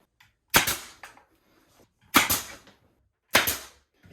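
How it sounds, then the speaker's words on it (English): Nail gun firing into a closet shelf during a custom closet build, three sharp, close pops spaced about a second and a half apart, with quiet between shots. "So let's nail this up."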